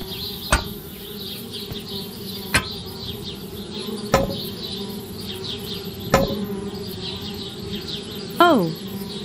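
Bees buzz in the point-and-click adventure game Anna's Quest, a steady droning hum trying to move into a treehouse, with several sharp clicks and a short rising-falling chirp near the end.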